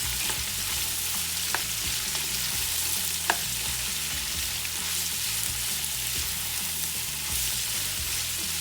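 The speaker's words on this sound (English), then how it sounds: "And now, we're gonna saute these babies. Break them down," Vegetables sautéing in a pan as the base for a fish soup, a steady close sizzle running throughout with a few faint clicks of the spoon, no talking.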